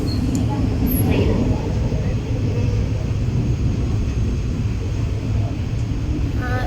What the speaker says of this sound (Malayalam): അപ്പോൾ ഇന്ന് ഞാൻ ട്രെയിനിലാണ്.